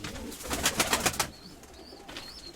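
Krymak-breed pigeons coo in a short run of soft, rhythmic calls, loudest in the first half and fading to quieter, faint chirps afterward, with no talking.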